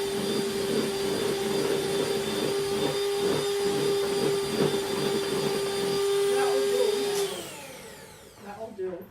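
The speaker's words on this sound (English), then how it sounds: "You've finished with the mixer now" Electric mixer whirring through cupcake batter, a steady loud motor whine with a rhythmic pulse that winds down and stops near the end, with people talking over it.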